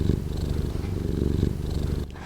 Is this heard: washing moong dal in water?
no